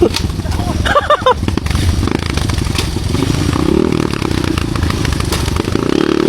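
An enduro motorcycle engine rumbles loudly and roughly nearby with rattling clatter through frequent gear changes, while a voice calls out briefly.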